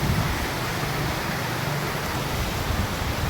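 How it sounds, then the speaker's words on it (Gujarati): Heavy afternoon rain pouring down after sudden sunshine, a dense, even hiss that stays constant and fairly loud throughout with no pauses. "બહુ સારો વરસાદ આવે છે"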